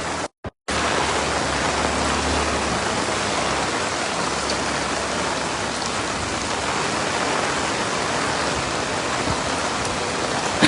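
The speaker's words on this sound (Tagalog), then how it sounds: "Ipunin po namin ang tubig ng ulan." Steady, heavy rain falling outdoors, a dense, even hiss of drops on surfaces that continues unbroken for several seconds after a brief opening cut, close and loud with no voices.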